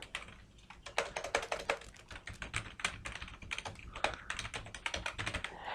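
Rapid, irregular clicking of a computer keyboard as an email address is typed into a login form, close and crisp with no one speaking.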